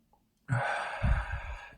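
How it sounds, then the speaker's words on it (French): A deep breath is drawn in, then released as a long, audible sigh, close and clear, lasting under two seconds. "Tu prends une grande inspiration"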